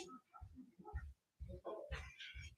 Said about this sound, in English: God dang dog. Barking at the neighbor's cat.